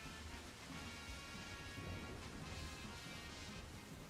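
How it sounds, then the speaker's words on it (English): Steady rainfall in a Pokemon game, a faint, even hiss of drops with low rumbling underneath, continuous and alone without any talking. "Oh, the rain, make it stop."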